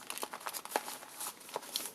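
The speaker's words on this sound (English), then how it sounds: "one of the things I like to do when I'm doing my swaps is to wrap it in tissue paper" Tissue paper being wrapped around a small washi tape sample for a swap, a soft, close crinkling and rustling in quick irregular bursts, with no talking.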